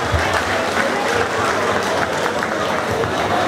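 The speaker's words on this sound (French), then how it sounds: "On applaudit pour eux, s'il vous plaît." Full-room applause from guests at a 2018 Baleng de France evening gala, steady, close and loud throughout, with a faint murmur of voices beneath the clapping.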